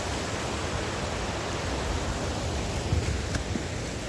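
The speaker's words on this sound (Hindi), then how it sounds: "हर जगह झरने बह रहे हैं भाई" Waterfalls flowing on a mountainside near Kedarnath give a steady, broad rushing hiss that stays even and fairly soft throughout, with no voices over it.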